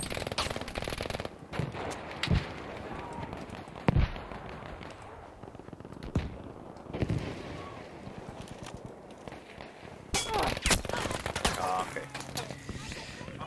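Machine gun fire in Battlefield V: scattered cracks and short bursts of automatic fire, some distant and some closer, over a busy battlefield ambience, with a dense loud volley near the end.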